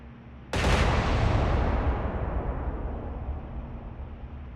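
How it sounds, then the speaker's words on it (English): Battleship main guns fire in the naval video game War On The Sea, one sudden loud blast followed by a long, heavy rumbling roar that slowly fades over several seconds. "let's hear the guns go off"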